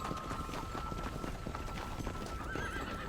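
Horse hooves clip-clop at a steady trot in the Red Dead Redemption game, close and continuous, with a short whinny near the end and a thin background hum beneath.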